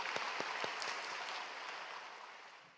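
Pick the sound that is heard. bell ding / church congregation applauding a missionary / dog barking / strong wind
church congregation applauding a missionary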